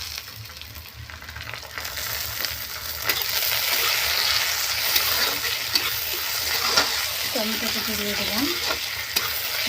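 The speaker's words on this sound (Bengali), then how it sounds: "টমেটোটাকে একটু ভেজে নেব ততক্ষণ" Chopped tomato frying with onions in a pan for mutton kosha, a steady sizzle with stirring scrapes that grows louder, and a brief spoken phrase near the start.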